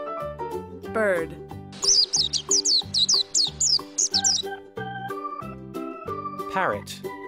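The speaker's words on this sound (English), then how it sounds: "Bird." A quick run of bright, high bird chirps repeats about a dozen times over a steady musical backing.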